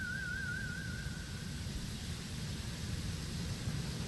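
Steady broadband white-noise static from the Harvester video game fills the whole stretch at an even, moderate level, with a brief faint wavering tone near the start and no voices.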